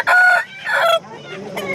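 A rooster crows loudly and close at a Saturday hen market, two strained calls followed by softer clucking and faint background voices.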